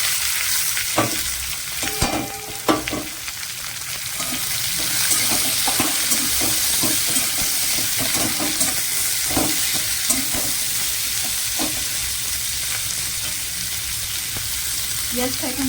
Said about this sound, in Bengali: পেঁয়াজটা এখানে যখন ভাজাটা হয়ে আসবে